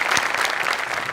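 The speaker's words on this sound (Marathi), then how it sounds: "जोरदार टाळ्या" Dense, steady audience applause fills the studio at a Marathi comedy show, loud and continuous throughout with no voices standing out.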